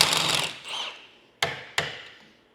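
A 15 mm nut coming off a leaf spring pack clamped in a vise: a brief harsh burst of close mechanical noise, then two sharp separate metallic knocks, each fading quickly, with no talking.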